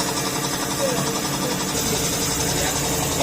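A Honda Click scooter engine running steadily after being started, a dense continuous mechanical drone and buzz, loud and close, with no break across the stretch.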